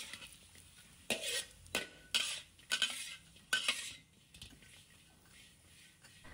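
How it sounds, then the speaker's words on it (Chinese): Chestnut sweet potato chunks tossed in hot caramelized sugar in a pan, with a handful of sharp scraping and clattering stir strokes spaced apart over a faint sizzle, fairly close. "快速翻拌"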